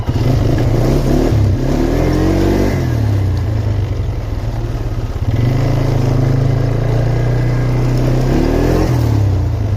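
Polaris Trailblazer ATV engine idling and revving close by, a steady loud motor drone with a rising rev sweep early on and another near the end, no talk.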